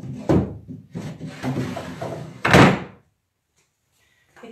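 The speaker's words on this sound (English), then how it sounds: "I'm going to put some of the drawers in." Wooden drawers slid into a Duncan Phyfe buffet, giving a few close knocks and scraping wooden slides, then a heavier thump as one seats, followed by quiet.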